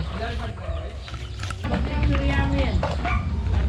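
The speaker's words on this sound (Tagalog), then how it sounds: "Chicken, chicken." Chickens cluck amid a noisy, crowded setting, with people talking over the birds nearby.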